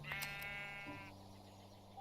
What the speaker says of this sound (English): I want to take the sheep.